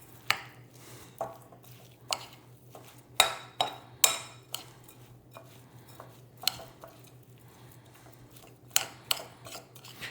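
Black pepper is stirred into a healthy snack mixture in a bowl: quiet scraping with sharp clinks of utensil against dish at irregular intervals, close and fairly faint.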